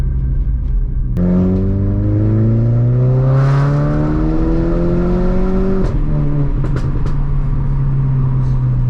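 A VW Polo GTI B road car with 250bhp revs loudly, its engine note sweeping steadily upward in pitch over several seconds before a brief shift and a sustained high drone, with no talk.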